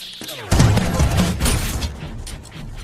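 A gunfire exchange at a gangster boss's hideout in an action film: a loud burst of rapid shots with booming impacts that fade into a lingering rumble, no speech.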